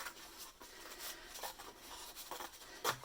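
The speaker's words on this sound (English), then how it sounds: "I'm gonna flip this over and I'm gonna cut right here" Scissors cutting through paper, a series of soft, close rustling snips and scraping strokes heard alone at low volume.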